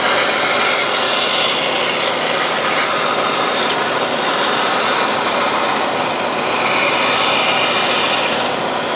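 A band saw cuts a piece of wood along a marked line, a loud, continuous rasping whine steady throughout with slight shifts as the blade feeds through the board.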